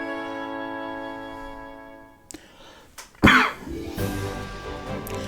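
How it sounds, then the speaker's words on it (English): A single short cough bursts out partway through, fairly near, after a sustained musical tone from a game fades and before soft background sound resumes. "Trying to cough away from the mic, so I hope it doesn't come through too loud."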